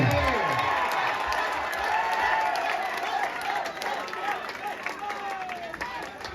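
Crowd at an outdoor tug-of-war match cheering and clapping steadily throughout, with a busy mix of shouts and whistles over continuous broadband crowd noise.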